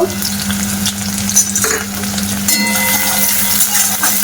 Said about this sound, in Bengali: তো তেলটা গরম হয়ে গেছে, ওর মধ্যে কুচনো পেঁয়াজ দিয়ে দেব, কুচনো রসুন দিয়ে দেব